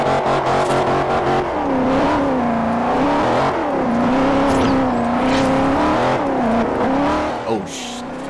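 Race car engine in the Forza Horizon racing game, holding a steady high drone that rises and falls with revs throughout, loud and close, with a brief sharper burst near the end.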